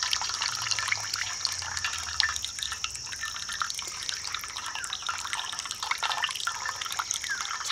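Whey drips from fresh chhena held up in a cloth, a steady patter of fine drops falling into liquid below, close and continuous with no talk.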